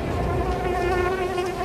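A housefly beats its wings about 200 times per second, making a steady, loud, close buzzing hum that carries on alone without any talking.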